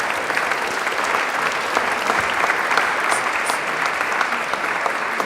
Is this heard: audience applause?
yes